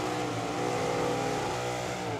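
Camaro drag car launching down the right lane at Firebird Motorsports Park during a teams bracket race, a loud, sustained roaring engine note rising in pitch as it accelerates, heard alone.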